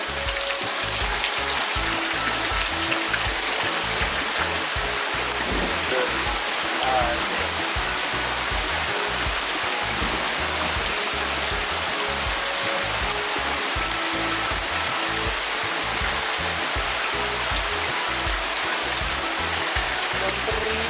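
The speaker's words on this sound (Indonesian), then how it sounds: "karena sekarang lagi hujan tuh" Rain falls hard and steadily in a constant loud wash, with no voices over it.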